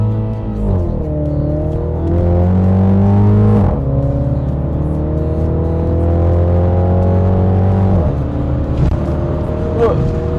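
A Mini Cooper JCW engine heard from inside while driving, loud and steady, with pitch climbing through the gears and dropping sharply at each shift.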